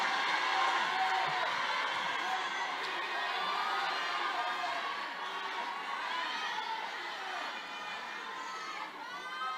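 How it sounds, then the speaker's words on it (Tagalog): A big political rally crowd shouts and cheers without a break, loud and close, with overlapping voices and whoops swelling and easing over the whole stretch. "Tatagal tayo sa sigawan ninyo"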